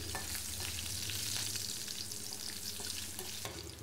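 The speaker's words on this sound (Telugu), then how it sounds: "పచ్చిమిర్చి బాగా ఫ్రై అయ్యాయండి." Green chillies frying with salt and a pinch of turmeric, stirred in hot oil: a dense, continuous close sizzle with faint scraping of the spatula, steady throughout without any voices.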